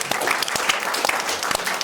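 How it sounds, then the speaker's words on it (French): Steady applause from a French talk-show studio audience, dense clapping throughout with a few sharper claps standing out, no voices. "on peut applaudir Ignace"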